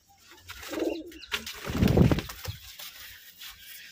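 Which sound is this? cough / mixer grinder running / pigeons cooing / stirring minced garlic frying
pigeons cooing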